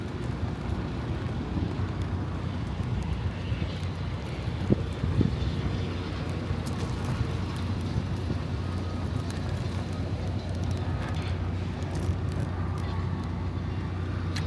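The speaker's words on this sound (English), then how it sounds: "the Marine One, the president's helicopter flying right over Snake Road" Marine One, the presidential helicopter, passes over Snake Road near Philadelphia, a steady low rumble that holds through the whole stretch, mixed with outdoor wind noise.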